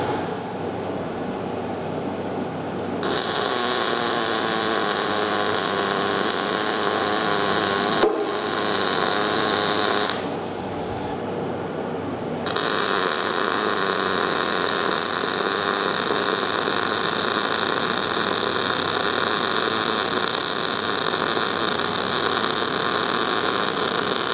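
Arc welding a long bead down the side of a tractor after its four corners were tacked, a steady broadband crackle and hiss running nearly continuously with two short pauses, close and loud, no talking.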